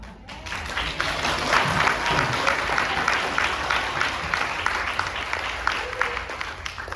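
Steady audience applause from a seated crowd at a Korean-American church forum, dense and continuous at moderate volume for several seconds, with faint talk underneath.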